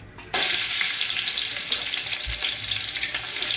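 Onions frying in oil in a home kitchen for a 1 kg batch of shrimp pulao, a steady close hiss and sizzle that starts abruptly and runs continuously, with no talk.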